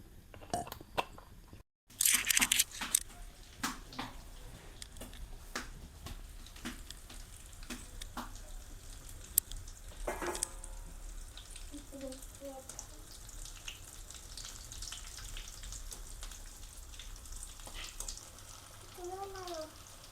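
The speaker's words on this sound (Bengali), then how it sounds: "এখন আমি তেলে ভেজে নেব।" Potato pakoras (aloo chop) frying in hot oil, a steady low sizzle with scattered crackles and pops that runs the whole way, while a few brief tonal sounds come and go near the end.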